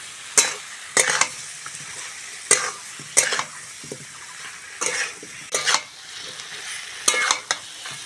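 Spice paste frying in a pan for Bengali neem-leaf tetor chorchori, with repeated sharp scraping stir strokes over a steady close sizzle, no talking.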